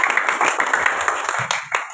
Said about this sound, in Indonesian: Oke, kita tepuk tangan untuk kita semua.